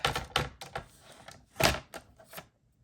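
A paper cutter slicing through paper in a few short, close scraping and thunking strokes, with a louder cut near the middle, then quiet.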